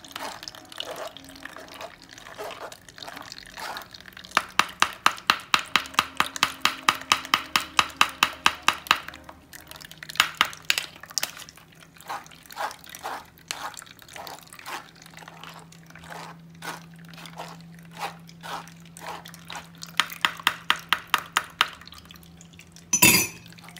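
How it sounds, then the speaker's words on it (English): Spoon scraping and scooping liquid out of soursop pulp in a bowl, with quick bursts of rhythmic tapping and wet sloshing, close and intermittent. "you use a spoon to get rid of some of the liquid first"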